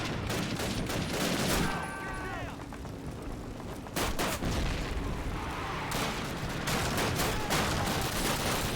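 Call of Duty first-mission battle gunfire: dense, continuous volleys of rifle and machine-gun fire mixed with heavy booms, loud and unbroken throughout, with faint in-game voices underneath.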